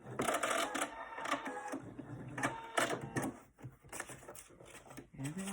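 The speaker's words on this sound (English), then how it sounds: "your sewing machine wants to suck them down into the little hole" A sewing machine stitches paper-pieced fabric in short mechanical bursts, stopping and starting, with someone talking quietly between runs.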